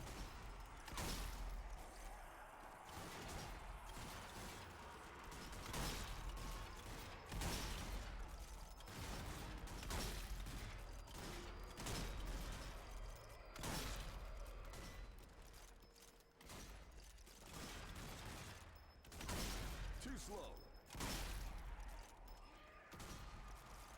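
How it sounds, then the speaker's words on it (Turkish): Gunfire in the zombie shooter Zombie Army 4: Dead War, a dense, continuous barrage of shots and crashing impacts that keeps going throughout without a break, loud and busy with a steady roar beneath. "Vuruyorum."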